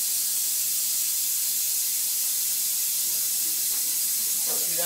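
A can of ether starting fluid sprays in a garage while mounting 33x10.5-15W race slicks, a steady close hiss filling the whole stretch, with a few faint voices at the end.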